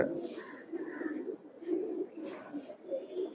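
Tournament-bred pigeons coo repeatedly in low, rolling phrases close by, one call following another over a quiet background.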